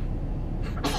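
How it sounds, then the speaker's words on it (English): A baby gives a single quick, sharp sneeze at the very end, close and clear, following a moment of steady low background rumble as if inside a moving car on cold, snowy roads. "Cute little baby sneezes."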